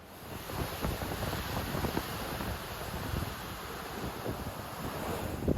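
Ocean waves rolling below a cruise ship balcony, a steady broad wash of surf mixed with wind buffeting the microphone, continuous and moderately loud with no voices.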